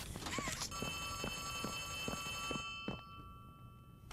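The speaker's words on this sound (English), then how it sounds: "How are we supposed to answer this phone?" A telephone ringing inside the Poppy Playtime video game sounds a steady electronic ring, with footsteps tapping at a regular pace beneath it, clear and fairly close.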